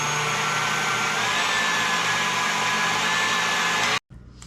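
An electric mixer whirs steadily and loudly while whipping egg whites with hot sugar syrup for marshmallow fluff, a constant motor drone that stops abruptly near the end.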